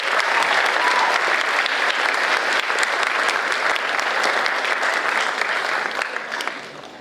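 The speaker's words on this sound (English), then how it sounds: "Huge round of applause for everyone that made that happen this season." A crowd gives a sustained round of applause at a high school spring sports awards night, dense and even clapping from many hands that carries on before tapering slightly at the end.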